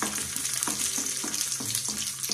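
Cashew nuts and raisins fry in hot oil in a pan, a dense continuous sizzle close by with soft rhythmic stirring strokes every half second or so, no voices.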